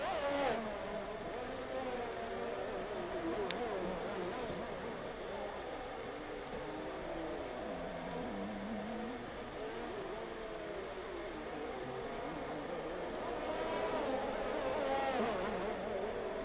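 F1 race cars in a video-game Monaco Grand Prix, with engine whines weaving and rising in pitch as cars pass in a steady, continuous stream of motor noise throughout, moderately loud.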